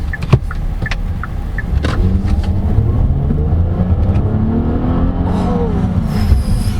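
A 2015 Hyundai Azera with a 3.0L V6 accelerates hard from inside the cabin, engine note climbing steadily in a loud, continuous pull with rising pitch, a few clicks and knocks early on.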